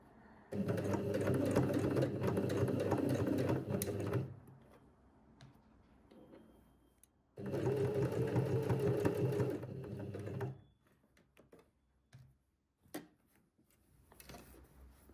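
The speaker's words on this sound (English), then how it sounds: "if you've got a sewing machine which has a needle up down function" Sewing machine stitching a shirt collar, running in two steady bursts of rapid, even mechanical whirring, each lasting several seconds, separated by quiet pauses with faint handling clicks and rustles.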